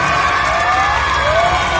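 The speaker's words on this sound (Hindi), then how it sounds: "जोरदार तालियां हो जाए" Audience at a school Independence Day celebration cheers and applauds loudly, a dense steady roar of clapping and children's shouts filling the space without a break.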